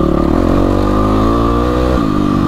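A Yamaha WR450F dirt bike engine runs steadily at high revs while riding in Australian countryside, with a loud, continuous droning note that dips briefly as the rider shifts near the end.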